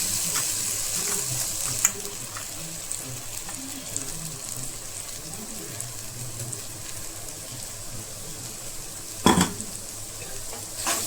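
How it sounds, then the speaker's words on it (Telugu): Ginger garlic paste frying in a pan for Andhra chicken curry, a steady soft sizzle and crackle throughout, with a brief louder clatter near the end. "దాంట్లో అల్లం వెల్లుల్లిపాయ పేస్ట్ వేసుకుంటున్నాను."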